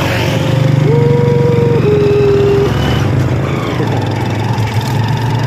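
A motorized tricycle's engine drones loud and steady from on board during the ride, a continuous low rumble with a brief higher whine partway through.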